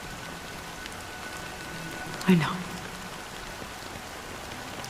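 In Honkai Star Rail, rain pours steadily with an even, gentle hiss, broken once by a brief spoken line.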